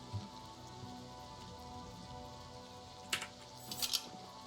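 Steady rain falls at night in Oblivion Remastered, a soft continuous patter with a few brighter clinks and drips near the end, fairly quiet and without speech.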